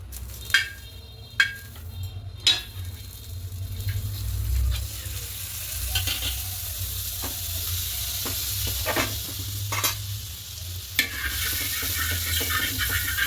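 Egg batter for cheesy egg toast is poured into a hot pan and fries with a steady sizzle. Sharp clinks of a utensil against the pan come early on, then occasional scraping sounds.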